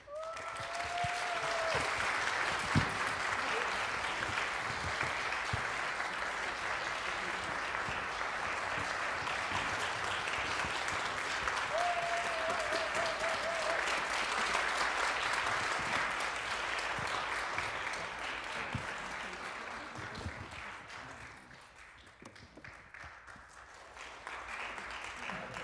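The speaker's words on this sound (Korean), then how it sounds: "큰 박수로 맞이해 주세요" A large audience at a benefit concert and donation ceremony applauds warmly to welcome the National Cancer Center director, a dense, steady roar of clapping lasting about twenty seconds before thinning out near the end.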